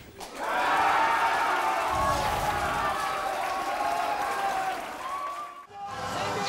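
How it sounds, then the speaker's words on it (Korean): A large crowd roars and cheers as Daegu wins the bid to host the marathon event, a loud sustained swell of shouting and applause that fades briefly near the end before rising again. "대회 유치가 확정되자 곳곳에서 우렁찬 함성이 터져 나옵니다"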